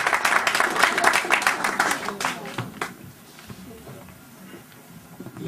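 A church congregation applauds and cheers during a Congolese prayer gathering in Stockholm, a dense burst of clapping that thins out after a few seconds, with voices and crowd noise underneath.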